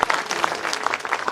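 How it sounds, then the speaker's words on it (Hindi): Loud clapping from an audience at a Hindi poetry recitation, a brief dense burst of many hands applauding together, close and steady throughout. "जोरदार ताली बजा।"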